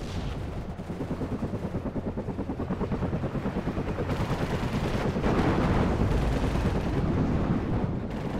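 A Cobra attack helicopter firing in the WARNO wargame, rapid continuous gunfire rattling in a dense, even rhythm for several seconds over a low rumble, loud and sustained.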